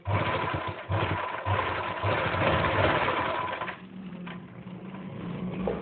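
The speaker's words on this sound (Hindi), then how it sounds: "दोनों प्लेटों पे सिलाई लगा देंगे" An electric sewing machine stitches the plates of a Patiala salwar, running with a steady, loud mechanical whir and rhythmic needle clatter that slows and softens near the end.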